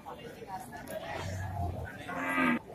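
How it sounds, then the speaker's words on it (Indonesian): PO (Ongole crossbred) cattle at a livestock market in Kebumen, with a low cow moo rising over the loud chatter of the crowd and voices talking nearby. "Mas Ratim punya sapi PO ya."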